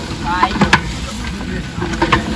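Mutton with onion, garlic and ginger masala stirred in a pot over a wood-fired clay stove, with a few scraping strokes and a soft sizzle up close, no talk.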